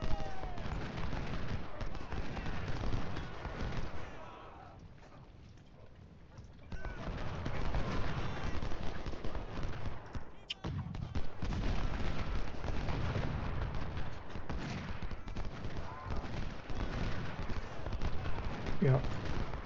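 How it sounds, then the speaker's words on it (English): Civil War artillery bombardment in the video game Ultimate General Civil War, at the Battle of Shiloh: a continuous rumble of cannon fire and gunfire with scattered booms, easing briefly midway, under someone talking. "If we can just get our artillery moved up, I want to start bombarding this position, softening it up"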